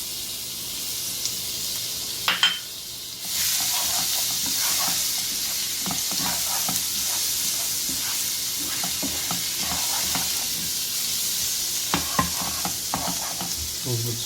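Chopped garlic sizzles steadily in about two tablespoons of hot oil, a continuous frying hiss broken by a few sharp clicks and taps of a utensil stirring the pan.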